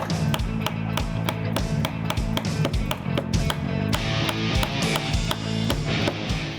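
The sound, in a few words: tapping a glued piece into place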